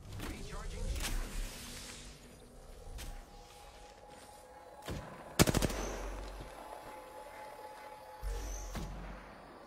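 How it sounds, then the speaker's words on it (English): Rapid bursts of video game gunfire from enemies, with sharp automatic volleys and a loud cluster of shots midway, mixed with game sound effects and a low rumble. "The enemies are shooting at me."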